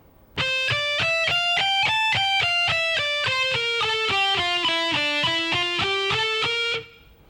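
Opening part of a lick on electric guitar: a steady run of about fifteen evenly picked notes rising then falling in pitch, bright and close, alone with no talking.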